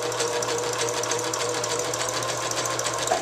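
A sewing machine runs steadily in a zigzag stitch over yarn for gathering fabric, a continuous close whirring hum with a fast even needle rhythm throughout, no voices.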